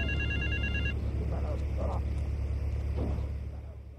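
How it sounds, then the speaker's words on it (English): Phone ringing in the video game GTA 3, a short electronic ring pattern at the start over a steady engine hum, followed by people talking. "didn't we have to answer the phone?"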